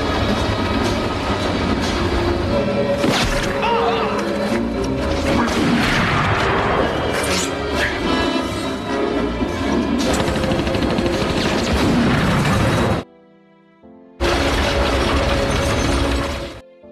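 Gunfire in an action film about a sniper: a loud, dense barrage of shots mixed with clattering mechanical noise, cut off by a brief silence and then resuming.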